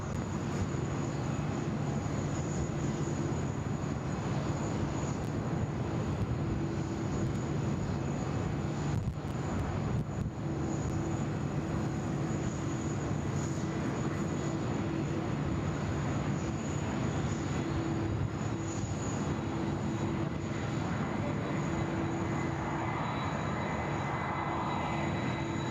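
Continuous low rumble of a Qantas jet airliner vacating the runway at Sydney Airport, with a steady engine whine at moderate distance and no voices.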